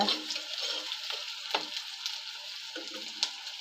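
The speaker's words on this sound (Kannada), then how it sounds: "ಚೆನ್ನಾಗಿ ಫ್ರೈ ಆಗ್ತಾ ಇದೆ" Onions frying in a pan for toor dal sizzle softly and steadily, with brief scraping and stirring sounds breaking through now and then.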